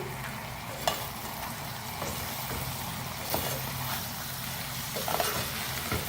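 Mutton and okra curry with coriander is stirred in a pan, giving a quiet, steady scraping and sizzling with a few soft knocks of the spoon against the pan.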